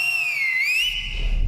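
A single long, shrill whistle rises and falls at a local cricket league match, loud and alone for about a second before breaking off into crowd rumble and wind noise.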